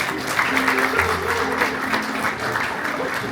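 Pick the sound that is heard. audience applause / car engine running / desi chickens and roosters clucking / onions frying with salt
audience applause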